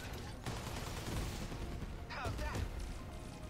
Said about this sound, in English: Okay, fire the rockets.